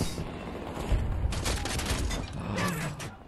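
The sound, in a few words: bombs dropping and exploding in the video game Battlefield 2042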